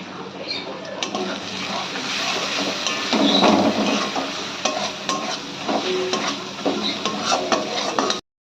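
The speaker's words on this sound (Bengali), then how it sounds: "এবার ভালো করে মশলাটাকে কষিয়ে নিতে হবে।" Spices with red chili powder stir-fried in a pan for chicken korma: a dense, close sizzle with continuous scraping and stirring, loud and steady until it cuts off abruptly.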